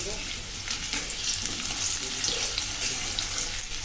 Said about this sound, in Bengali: আলুগুলো সুন্দর করে ভেজে নেব।